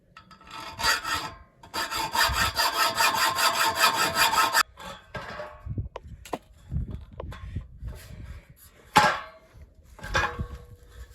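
A pipe sawn through to length by hand, rasping back-and-forth strokes in quick bursts, close and loud, then slower scattered strokes and knocks as the cut finishes.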